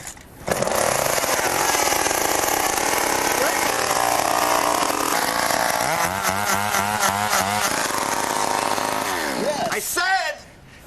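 A chainsaw engine used as an auxiliary engine on a scrapheap-built collapsible car runs loudly and steadily close by, with a voice talking over it partway through before the engine cuts off near the end.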